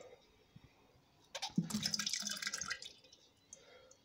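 A sample of homebrewed plum stout is poured back into the fermenter, giving a short burst of splashing and trickling liquid followed by a few soft drips, close and quiet.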